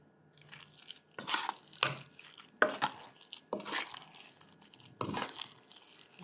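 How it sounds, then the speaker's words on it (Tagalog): A spoon stirring a siomai filling mixed with two eggs and a spoonful of flour in a bowl, making wet, sticky squelching strokes in an uneven rhythm. The strokes are close and moderately loud, and no one talks. "Then, hahaluin po natin yung maigi."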